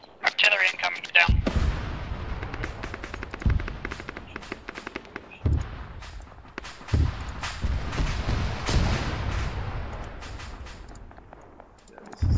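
Artillery shells land in a town in the military game Arma 3, with a string of heavy booming impacts spaced every second or two, deep low thuds over a rumbling battlefield bed and sharper cracks between them.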